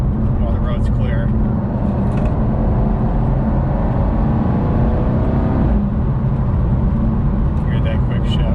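A Jaguar XE SV Project 8 engine roars loud and close under acceleration with a quick gearshift, then downshifts to fourth, a continuous dense drone with a brief dip partway through and faint talk over it.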